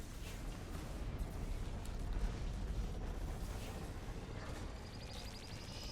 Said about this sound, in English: Nova Cannon.